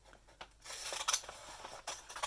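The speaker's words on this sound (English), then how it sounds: "so I'm going to cut that off too." Scissors snipping through a paper seam while making a handmade map book, several close, quiet crisp cuts with soft rubbing between them.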